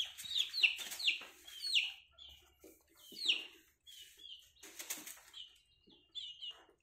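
A chicken clucking in agitation after rushing in to attack young chicks, a series of sharp, close calls with a brief flutter of wings, and quieter squawks follow between the bursts.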